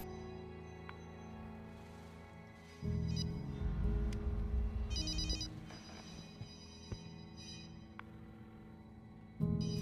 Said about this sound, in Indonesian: Tidak berselang lama, ponsel milik Jay berdering.